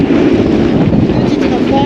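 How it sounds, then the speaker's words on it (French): A brief gust of wind buffeting a sailboat, a loud steady rush of wind roaring across the microphone with low rumble throughout. "Petite rafale"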